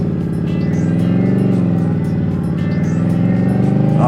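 A 2021 Indian Scout Bobber motorcycle accelerates to speed, its engine a loud, continuous rumbling drone with rising harmonics, heard close from the rider's seat without any talk.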